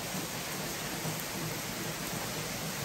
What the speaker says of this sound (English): Another big wave of heavy duty thunderstorms coming through right now.